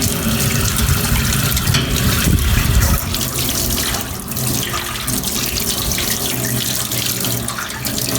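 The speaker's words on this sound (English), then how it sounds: "the tap that's running there is warm water" Warm water runs steadily from a tap into a campsite sink, a continuous close rush that is heavier for the first few seconds and then settles into a softer, even flow with no talking.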